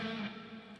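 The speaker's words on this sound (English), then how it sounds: "Lots of distortion, Marshall style amp. I'm playing the Friedman patch here on the Axe FX." Distorted electric guitar through a Marshall-style Friedman amp patch on an Axe FX, with heavy delay and reverb; a sustained, loud note rings briefly and smears into echoing tails.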